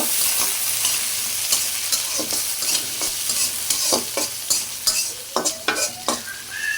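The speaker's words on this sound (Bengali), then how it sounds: "তো আমি প্রথমে পেঁয়াজ দিয়ে দিই। ভালো করে ভাজতে নিব।" Onions fry in a pan with a bright, constant sizzle while a spoon stirs and scrapes in quickening strokes toward the end, close and loud, with no talking.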